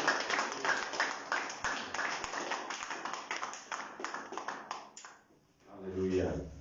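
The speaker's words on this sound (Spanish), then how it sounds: "Dale palmas al Señor" Congregation clapping at an evening church preaching service, dense and steady for about five seconds before fading, then a voice begins speaking at the end.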